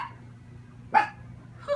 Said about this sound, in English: my doggie, she would bark at anybody thinking about walking by our house